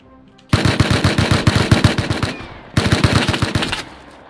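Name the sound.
gunfire in the video game Rust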